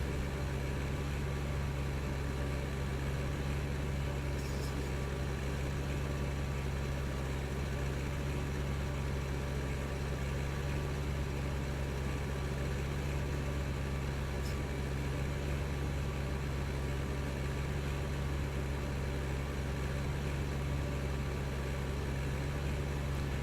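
Tractor engine in Farming Simulator 15, a steady low idling drone held at constant pitch throughout, droning on alone with no change in rhythm.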